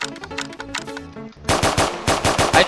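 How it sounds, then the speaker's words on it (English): Automatic gunfire in the Roblox prison game, a loud rapid stream of shots that grows heavier and denser in the second half, with no talking over it. "I just shoot people who don't run out of the pool."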